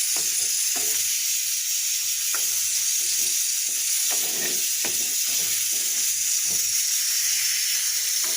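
Koi fish (climbing perch) frying in hot oil gives a loud continuous sizzle and hiss with small crackles and occasional taps throughout, and no one speaks.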